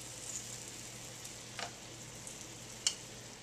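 Shrimp sizzle faintly in a pan of wine sauce, a soft, steady frying hiss broken by a few light clicks and pops.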